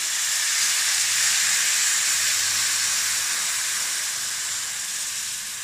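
Tamarind water poured into a hot pan for temple-style tamarind rice gives a loud, steady sizzling hiss that slowly fades toward the end, with no talking.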